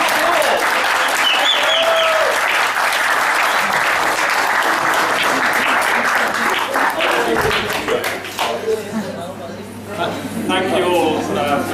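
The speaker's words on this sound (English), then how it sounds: "please give them a really wonderful applause" Sustained applause from an audience for apprentices of a Moroccan storyteller, dense steady clapping that carries on for several seconds before thinning out slightly near the end.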